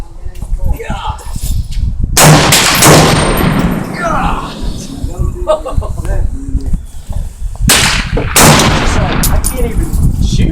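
Gunfire at an outdoor shooting range: a few loud, sharp shots crack out a few seconds apart, with the second and third close together, amid close talking.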